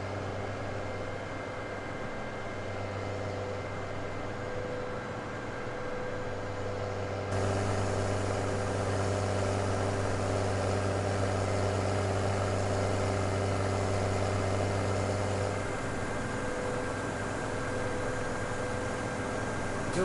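A tractor engine idles in Farming Simulator 2017, a steady low mechanical hum that continues without a break and grows slightly louder and fuller partway through. No voices are present.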